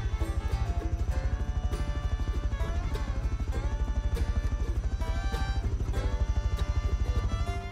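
A horse in the game Rust clops along in a fast, even, continuous rhythm of hoof beats, loud and close, under a steady tonal background with no talk.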